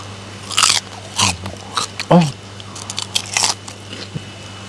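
Crunchy snack bites and chewing, several sharp crunches spaced over a few seconds, fairly close, with faint voices in between.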